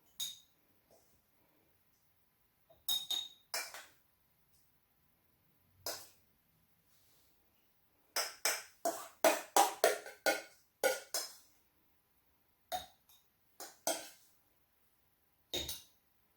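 Strawberry mixture is spooned into a jar in short bursts of clinks and scrapes of a spoon against glass, sparse at first then a quick cluster, close and quiet in between.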